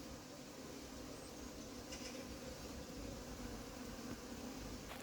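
A steady, dense buzz of many honeybees at an open hive in an apiary hums continuously throughout, close and fairly loud, with no talking.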